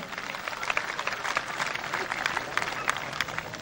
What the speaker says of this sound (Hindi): प्लेयर की हौसला अफजाई के लिए जोरदार ताली होनी चाहिए